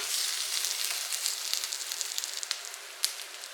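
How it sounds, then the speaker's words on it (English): Scotch bonnet and sweet peppers sautéing in a pan, a faint steady crackling sizzle with scattered small pops, close and without any talk. "I'm going to saute everything until it's fragrant and starting to develop those flavors."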